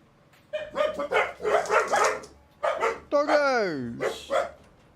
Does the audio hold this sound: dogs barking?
yes